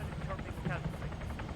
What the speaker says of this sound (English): I can't hear you for that fucking helicopter.